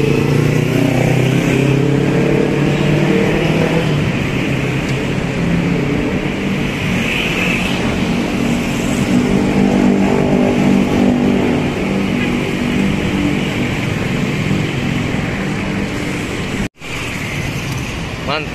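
Sinar Jaya intercity bus leaving Terminal Polis, its engine rumbling loudly as it passes close by in road traffic, a sustained roar over several seconds that ends in a sudden cutoff.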